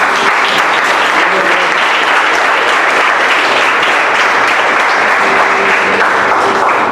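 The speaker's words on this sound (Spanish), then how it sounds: "Denle palmas más fuertes." A church congregation claps loudly and continuously, a thick, even roar of many hands that holds at full strength from start to finish, with faint voices beneath.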